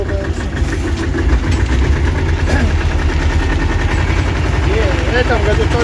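A T-25 tractor engine runs loud and close with a rough, knocking idle-like throb while driving a Bomet rotary tiller through field soil, continuous throughout, with a voice partly audible under it.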